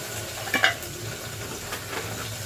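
Mustard seeds, garlic, green chillies, curry leaves and onions fry in hot oil with a steady sizzle and hiss, and a brief clink of a utensil stirring the pan comes near the start.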